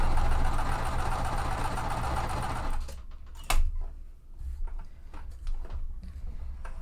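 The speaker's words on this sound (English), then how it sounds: "So I always hand crank my needle down first, hold my threads, and then sew my seam." Home sewing machine stitching a quilt seam on cotton fabric, a steady mechanical whir running close and loud for about three seconds before stopping abruptly, followed by a single sharp click and quieter handling noises.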